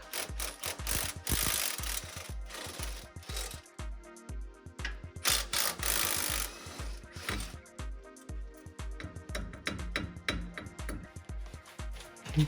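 A ratchet clicks in quick repeated bursts while loosening shock bolts on a pickup truck during a lift shock install, close and fairly soft, with short pauses between strokes.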